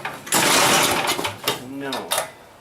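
The old snowblower's recoil starter is yanked with the choke on, giving loud, rasping whirring bursts from the cord and engine turning over without catching. A voice is briefly heard between pulls.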